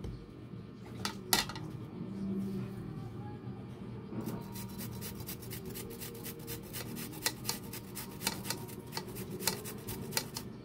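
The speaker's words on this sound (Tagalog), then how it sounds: "i-grate naman po natin gamit yung ating pang-grate" Quick repeated scraping clicks and clatters as a potato is rubbed against a metal grater, steady and close, with a low background hum.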